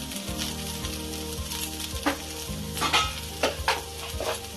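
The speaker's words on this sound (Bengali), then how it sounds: "আদা জিরে বাটাটা হালকা ভাজা ভাজা করে নিয়েছি।" Ginger and cumin paste fries in a pan, a close sizzle with bursts of crackling as it is stirred, while a low hum runs underneath.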